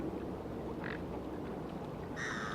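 Ducks quack at a lakeside in winter, a brief honking call near the start and a fuller burst of harmonic quacks at the end over steady outdoor noise.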